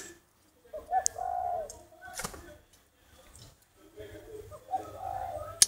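A caged male spotted dove gives two soft, throaty cooing phrases with quiet gaps between them, plus a few light clicks and rustles in a calm setting.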